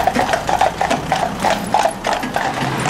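Hooves of a four-in-hand team of horses clip-clop at a walk in a steady, close, repeating rhythm, loud and clear with no talk over them.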